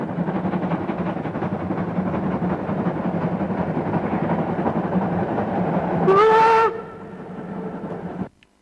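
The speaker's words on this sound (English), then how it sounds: "we find another TR-20 pulling a long freight train" A TR-20 steam locomotive hauls a long freight train with a steady rumbling roll of wagons, and a short whistle blast sounds near the end before the noise fades.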